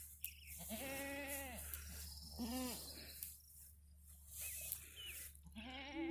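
A cow newly settled into its home on a farm gives three or four drawn-out, arching moos of moderate loudness, with pauses between them, over a steady low hum.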